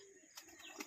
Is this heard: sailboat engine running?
no